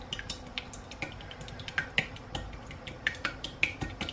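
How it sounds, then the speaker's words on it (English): A single egg is whisked in a bowl for a chaffle batter, giving a quick run of light, sharp ticking taps in an uneven rhythm, close by and fairly quiet, with no talking. "I'm gonna whisk up my egg."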